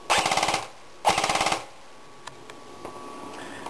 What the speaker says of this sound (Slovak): Obtiahneme cocking lever a zbraň nám strieľa.